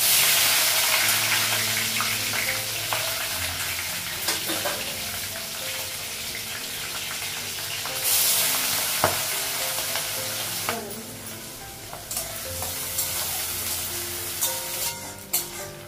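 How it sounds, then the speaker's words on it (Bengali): Onion sizzles in a pan with cinnamon, green cardamom, dried red chilli and green chilli, a continuous crackling hiss broken by occasional stirring clatters and scrapes, with no voices. "পেঁয়াজটা ভাজা হয়ে গেছে"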